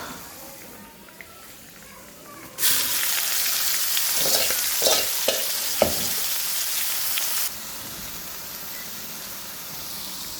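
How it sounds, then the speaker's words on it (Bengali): Red amaranth greens hit hot oil with fried onions in a home kitchen, bursting into a loud, steady sizzle that holds for several seconds with a few stirring knocks, then cuts off abruptly. "এখন লাল শাকটা বাগার দিব"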